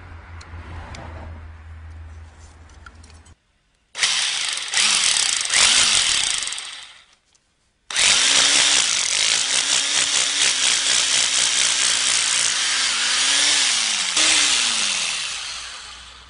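A rotary hammer drill with a 6 mm bit bores holes into a wall for mounting a doorbell, in two loud, close hammering bursts separated by a short silence, the second burst longer and continuous.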